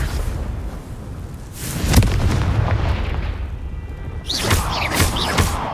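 Confringo blasting spell cast in Hogwarts Legacy, heard as a heavy booming burst near the middle, followed by fainter crackling magic effects and a brighter swirling whoosh toward the end, with no talking.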